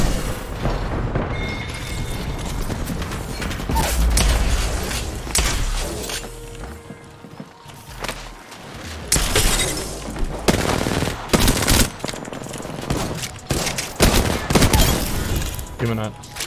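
A PK machine gun firing in a video game: dense bursts of rapid, booming shots come in clusters across the clip, loud and close, with brief gaps between strings of fire.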